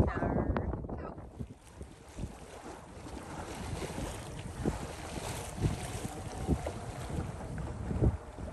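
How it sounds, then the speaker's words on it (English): Classic wooden sailboat sailing in wind off Bruny Island, Tasmania, with steady wind rush buffeting the microphone, water sloshing against the hull and occasional thumps. "Today we're sailing down the peninsula, and with Lucas sailing"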